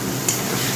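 A pan being stirred while food sautés, a brief, loud, close hiss with one small clink of the spoon.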